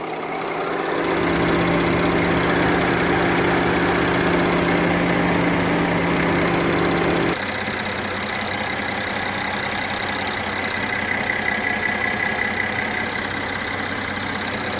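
A 2014 Mercedes E350 engine idles steadily with a constant rumble before an oil change, shifting to a slightly different tone halfway through and continuing evenly.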